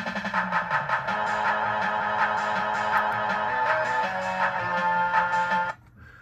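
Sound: pinball machine background soundboard sounds in test mode

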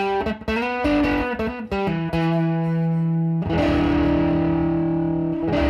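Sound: guitar through Sofa Car Effects Pomade fuzz pedal

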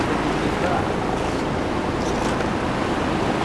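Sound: flood water rushing through Wadi al-Aqiq valley

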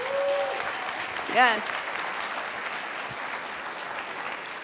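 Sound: applause for Oliver

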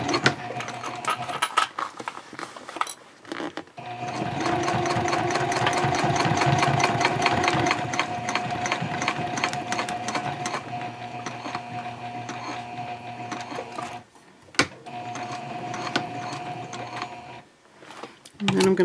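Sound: sewing machine top stitching a messenger bag seam

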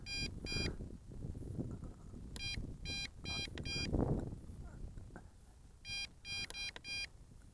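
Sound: drone controller warning beeps

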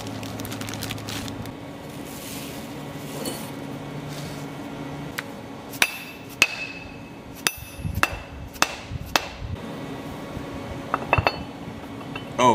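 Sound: press fitting dowels into a machined diecasting press

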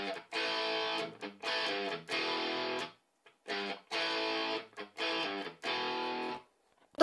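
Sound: electric guitar tone with plate reverb from GTRS app

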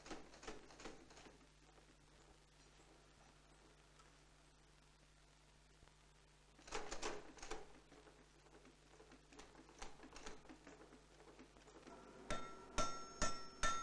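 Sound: power hammer forging an old axe

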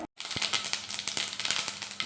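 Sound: mustard seeds spluttering in hot oil

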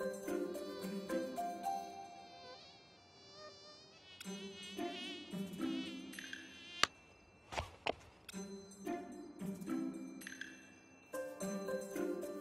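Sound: mosquito buzzing

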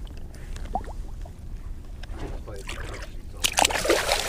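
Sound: sturgeon being released into the water, splashing

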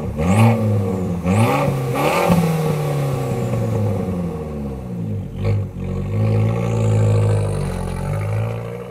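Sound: Abarth 695 Record Monza Sopra Posto exhaust, starting and pulling away

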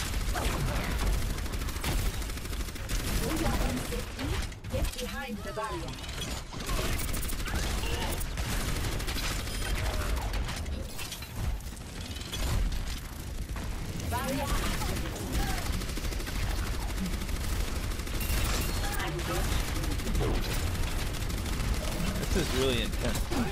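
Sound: gunfire in the video game Overwatch

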